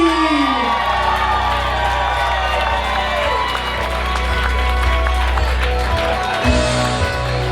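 Wedding guests cheer, whoop and clap for the bridal party being introduced at the reception, a lively crowd roar over steady background music, with an announcer's voice heard.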